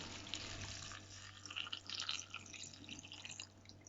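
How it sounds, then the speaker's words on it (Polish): Water runs and splashes into a pot over cauliflower florets, a steady trickling pour with some dripping, fairly quiet and without voices. "Zalewamy wodą."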